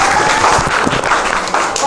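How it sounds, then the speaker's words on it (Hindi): Students in a classroom physics quiz clap in a dense, continuous burst of applause close by, with voices mixed in. "ताली बजा यार दोनों लोग"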